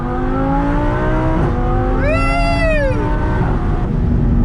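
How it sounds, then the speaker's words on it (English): An Audi R8 supercar downshifts and accelerates, its engine droning loudly and close, then blipping sharply upward in pitch for a second before settling into a sustained rising roar. "Let's get that downshift and go!"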